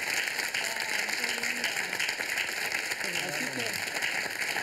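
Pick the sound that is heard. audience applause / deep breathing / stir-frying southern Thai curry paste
audience applause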